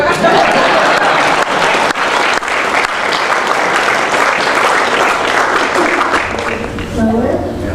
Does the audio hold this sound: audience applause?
yes